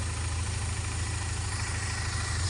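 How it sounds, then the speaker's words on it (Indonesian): A BMW car engine idles steadily, a low continuous rumble with a faint broad hiss, heard on its own at moderate distance with no talk. "Nah ini kadang seperti ini Mas Landung mesinnya"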